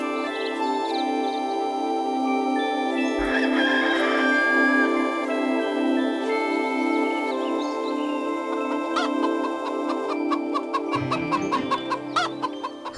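An animated cartoon hen clucks and calls loudly in repeated bursts over a bright musical backing, growing choppier toward the end.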